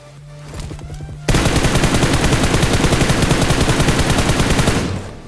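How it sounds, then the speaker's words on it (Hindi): Rapid automatic gunfire in the BGMI battle royale game, a sustained loud burst of fast, evenly spaced shots that follows a quieter lead-in and stops abruptly near the end. "उतने में मैं जो इसके ऊपर फायर लेता हूँ"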